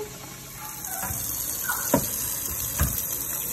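Hot water being poured off boiled smoked herring in a kitchen, a continuous splashing pour with a few louder sloshes and clunks near the microphone.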